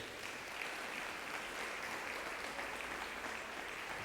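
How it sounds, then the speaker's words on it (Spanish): Church congregation applauding together, a steady, dense wash of clapping that fills the whole stretch at an even level with no talk over it. "Dale un aplauso a Jesús."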